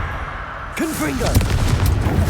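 Hogwarts Legacy's Confringo fire spell goes off with a heavy boom and a crackling rumble that carries on afterward, as a voice speaks briefly when it is cast.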